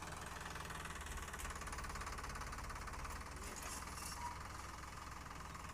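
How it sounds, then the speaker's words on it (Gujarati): A tractor engine runs steadily in an open field during peanut sowing, a continuous low rumble with a knocking mechanical texture, moderately close and unbroken. "આ જો ટ્રેક્ટર ચાલુ છે આપણે વાવવાનું ચાલુ છે"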